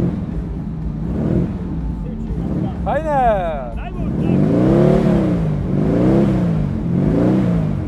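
A motorcycle engine is revved with the throttle at an outdoor motor event at Radawa, rising and falling in loud close surges under overlapping talk.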